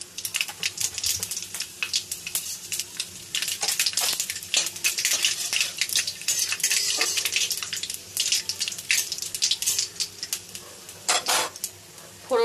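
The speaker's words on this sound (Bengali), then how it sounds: "এবার আমি দিয়ে দেব 5 ফোড়ন" Five-spice tempering and bay leaf sizzling in hot oil for a gourd dish, bursts of crackling spatter and utensil clinks close by, busy and uneven throughout.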